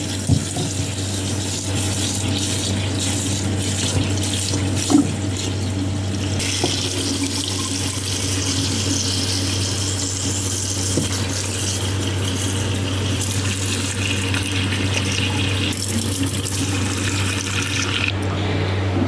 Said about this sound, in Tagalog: So, hugasan na natin yung mga ingredients natin.